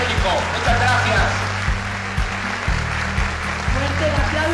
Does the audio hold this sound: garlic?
no